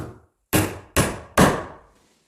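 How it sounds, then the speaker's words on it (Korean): A hammer taps nails into the back panel of an IKEA PAX wardrobe, giving three sharp, close wooden knocks at an even pace with brief silences between them. "못을 살짝 끼워준 다음에 망치로 툭 치고 이 부품은 빼줍니다"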